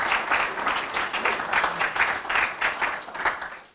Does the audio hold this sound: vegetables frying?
no